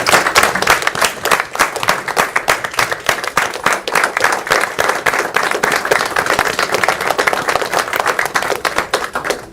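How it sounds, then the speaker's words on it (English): At a city commission meeting, a round of applause rings out, clearly separated claps from a modest crowd forming a quick, slightly uneven rhythm that carries steadily, close and loud, with no voices. "if everybody could give them a round of applause"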